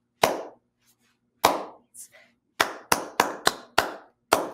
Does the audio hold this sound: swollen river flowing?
no